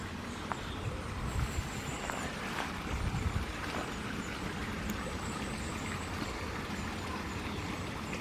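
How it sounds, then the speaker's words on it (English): A small woodland waterfall fed by a drainage pipe gives a steady rushing, splashing wash of water, fairly close and continuous, with a few faint chirps high above it. "it sounds like that might actually have been the mini waterfall"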